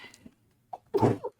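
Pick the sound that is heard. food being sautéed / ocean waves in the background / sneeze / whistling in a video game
sneeze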